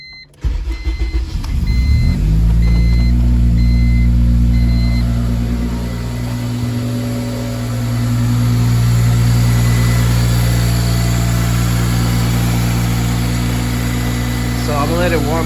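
Honda Civic with a K20Z1 engine and Hondata tuning cranks over and fires, then settles into a loud steady idle close by, with a brief chime at the start and speech faintly under it.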